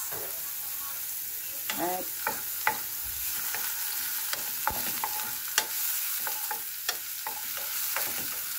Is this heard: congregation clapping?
no